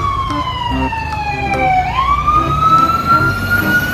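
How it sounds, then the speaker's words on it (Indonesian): A toy fire truck's wailing siren sweeps down and back up in pitch, steady and close, over faint background clatter. "Uhoho, mobil pemadam kebakaran."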